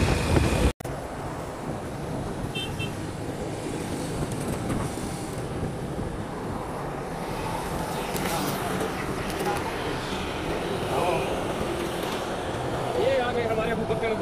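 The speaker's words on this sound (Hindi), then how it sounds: "तो इस वक्त हमारा सफ़र जारी है मोटरसाइकिल पर।" A motorcycle ride in hot weather brings a steady roar of wind buffeting the microphone over the hum of the engine, continuous and close, while someone talks throughout.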